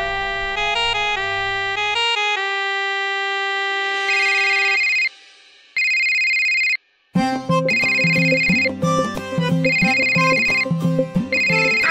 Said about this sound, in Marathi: कोणाचा फोन आहे बघ ना.